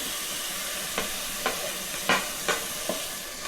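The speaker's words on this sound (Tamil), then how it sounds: "Now we will add the tomatoes and green chilies." Tomatoes and green chilies fry with onions and ginger-garlic paste for a prawn biryani, giving a steady broad sizzle broken by about five short scraping stirs, close up, with no talking.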